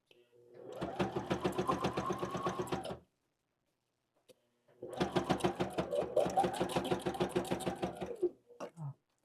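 A hand-crank sewing machine stitches through a fabric wallet in two runs of rapid, rhythmic mechanical clatter, each about three seconds long, separated by a brief silence, close and clear with no talking.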